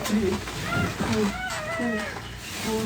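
A cat meows several times in short, rising and falling cries, fairly close, mixed with a voice talking and a steady indoor background hum.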